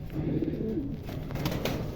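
Pigeons coo softly in a low, continuous murmur, close and steady throughout with no talking.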